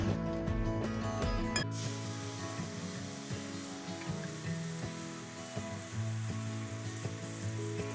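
Food sizzles and fries steadily in a pan during outdoor coastal cooking, a continuous close hiss with small crackles and spits, with a louder burst at the start that settles into a constant frying sound, no talking.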